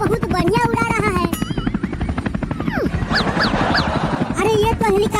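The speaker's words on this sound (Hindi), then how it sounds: "देखो कितना बढ़िया उड़ा रहा हूँ" A cartoon helicopter flies over a water park, its rapid rotor chop pulsing steadily beneath excited talking voices and a few whooshing effects.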